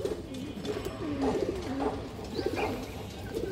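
High-bloodline pigeons coo softly and repeatedly at close range, low rolling calls overlapping in a steady series with faint background noise.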